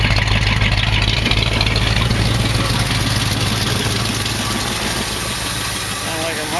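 A 1968 AMX with a 401 V8 idles on its first start, a loud, close, steady low rumble with an even throb that eases slightly toward the end.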